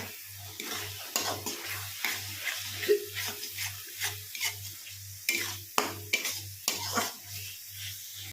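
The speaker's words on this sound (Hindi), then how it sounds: "इन सभी मसाले को मीडियम फ्लेम पर भूनेंगे" Cumin, black pepper, coriander and turmeric roast in a pan on a medium flame for a potato and jackfruit curry, giving soft sizzling and repeated stirring scrapes close by, under a steady low pulsing hum.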